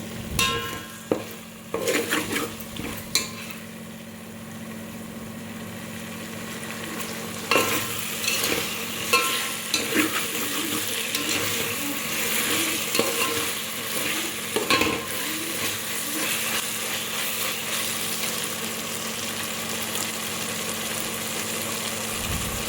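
Chicken pulao ingredients stirred and fried in a pan, a steady close sizzle with repeated scraping stir strokes throughout, no talking.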